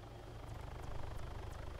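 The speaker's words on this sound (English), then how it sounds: "Alright, I'm just gonna go park the chopper on the back." Helicopter in the video game Arma 3, a steady rotor thump with engine drone, quiet and continuous with no talk.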